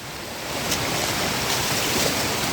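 Brief rushing water, a continuous broadband splash and gurgle of flowing stream water in the Mangalam Dam forest, close and fairly loud throughout.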